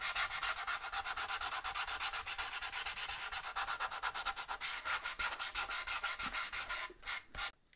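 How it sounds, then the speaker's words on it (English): Hand sanding the edge of a Stratocaster guitar body with 240-grit abrasive, steady rapid back-and-forth rasping strokes close up, slowing into a few separate rubs at the end. "a little bit of this 240 material, and we'll see how we go"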